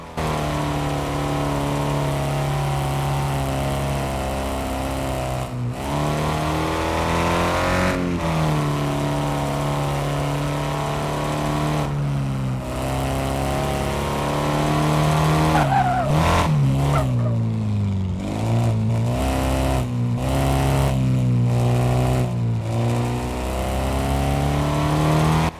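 A car in the Car Mechanic Simulator 2026 video game revs hard and surges through repeated accelerations, its tires squealing and skidding through sharp turns, loud and continuous over a long handling run.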